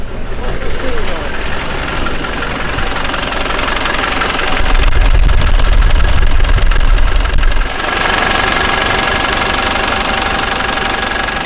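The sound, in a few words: Land Rover Defender engine running, head gasket failure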